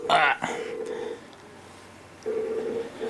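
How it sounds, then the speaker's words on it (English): An old-style telephone ring sounds from another room, two bursts of bright ringing separated by a pause, with a brief voice at the very start. "here's ringing in there, and it sounds just like the old style telephone"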